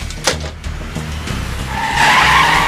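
A car pulls away fast as its tires squeal and skid, the screech building loud and sustained toward the end after a few low engine and thump sounds.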